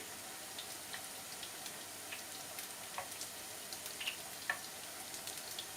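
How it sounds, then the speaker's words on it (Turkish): Quiet, steady sizzle of meatballs frying in a pan, with scattered small pops and crackles throughout. "bütün köftelerimizi bu şekilde kızartacağız"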